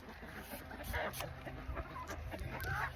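An Americana rooster clucks repeatedly at close range on a homestead, short irregular bursts over outdoor background noise.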